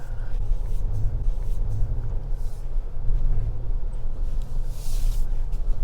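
A Toyota Tacoma TRD Pro pickup with an 8-speed automatic drives off-road, its engine a steady low rumble heard from inside the cab, with bumps and rattles rising and falling throughout.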